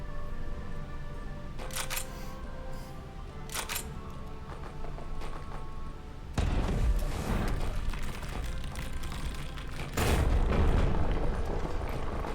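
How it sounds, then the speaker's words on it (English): Rock explosion effect from a biopunk video game in development: two sharp low-frequency blasts ring out with rumbling, crackling decay, heard loud and close with no talk, over a steady background hum and faint camera-like clicks. "I think it's the rock explosion"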